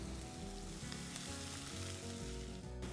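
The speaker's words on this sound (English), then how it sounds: "Now it's time to add onions." Onions hit hot oil already holding cumin seeds, cinnamon, star anise and cloves, giving a loud, continuous close-up sizzle with a busy crackling texture throughout.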